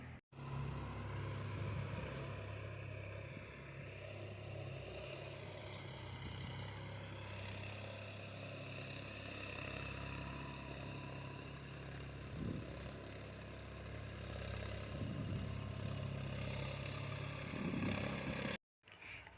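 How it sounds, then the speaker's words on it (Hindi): Tractor engine running at a house before plowing and paddy sowing, a steady mid-pitched drone at moderate distance with a few faint knocks, no talk. "तो अभी ट्रैक्टर वाले भैया आ गए हमारे घर पे।"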